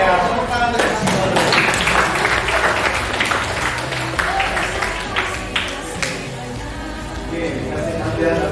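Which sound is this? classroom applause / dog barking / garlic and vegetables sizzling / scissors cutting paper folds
classroom applause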